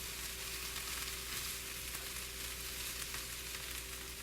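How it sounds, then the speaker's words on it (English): A soy nugget, vegetable and peanut stir fry with wilted spinach sizzles steadily in a pan, an even, dense frying hiss with no distinct stirring strokes, moderately quiet and without voices. "I'm going to give this a good stir."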